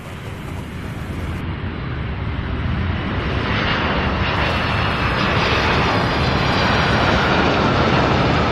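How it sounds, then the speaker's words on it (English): A jet airliner landing at Louisville International Airport, its engines making a steady, loud, broad roar that builds gradually and holds for several seconds with no voices. "Beautiful, beautiful landing."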